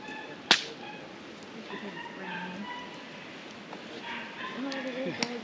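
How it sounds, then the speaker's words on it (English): Little dogs bark and yip in the distance outdoors on a fall day, a few short scattered calls following a sharp crack, with people talking quietly throughout. "I heard them bark"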